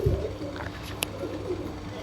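Malwai pigeons at close range, giving a brief, soft low cooing over a quiet background, with one sharp click midway.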